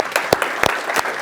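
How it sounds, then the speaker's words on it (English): Audience at a London DevOps meetup talk giving a short burst of applause, with a few sharp distinct claps standing out over a scattered spread of hand-claps. "I think that deserves a second round of applause."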